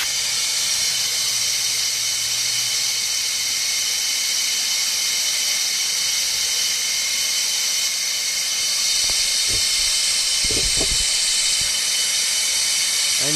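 An air-powered oil suction tool runs with a loud, steady, high hiss of rushing air that holds constant throughout, with a few low thumps and knocks near the end.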